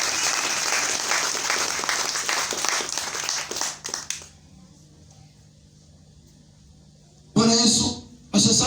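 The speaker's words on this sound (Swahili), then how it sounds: "Mpe Yesu makofi mazuri." A congregation at a Sunday church service breaks into loud, dense applause for around four seconds, then the room drops to near quiet before a short, loud burst of voices near the end.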